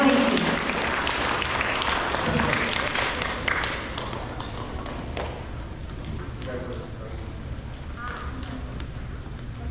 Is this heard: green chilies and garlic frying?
no